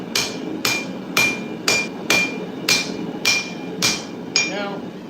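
Hammer blows fall on a Nordic khopesh blade being forged, about nine loud ringing strikes in a steady rhythm, close up and with no talking.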